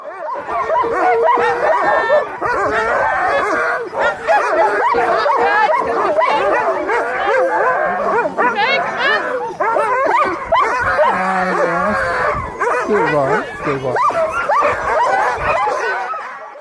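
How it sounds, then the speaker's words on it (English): A pack of sled huskies in Finland barks and yips excitedly without pause, loud and close, with some whining mixed into the continuous chorus. "They are all excited and keep barking."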